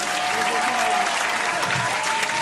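A crowd at a live bar show breaks into steady, dense applause and cheering that fills the whole stretch without pause.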